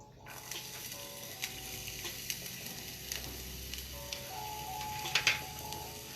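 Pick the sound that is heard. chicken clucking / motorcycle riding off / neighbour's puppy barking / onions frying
onions frying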